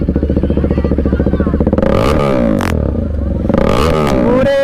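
A Kawasaki ZX10R or Z900 superbike engine roars loud and close, with a rapid throbbing idle rising into sharp revving bursts, amid a crowded street scene.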